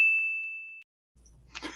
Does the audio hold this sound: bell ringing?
yes